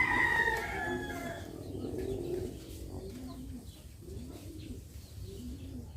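A rooster crows once, loud and close, its long call falling away over the first couple of seconds, then gives way to softer cooing pigeon-like calls repeating in the background.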